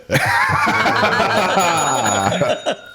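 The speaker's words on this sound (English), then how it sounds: "You're gonna wear this bell out, Dustin, if you keep zinging me like that" A bell rung in a car-talk shop setting rings out loud and close in a sustained bright jangle, with tones stacking and sliding for a few seconds before it stops, followed by a brief chuckle.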